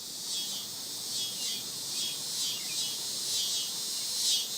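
Cicadas in late summer around Berkeley Springs keep up a steady, raspy high buzz that swells and fades in slow pulses, loud and continuous with no voices.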